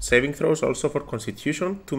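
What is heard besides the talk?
No everyday noise stands out behind the speech.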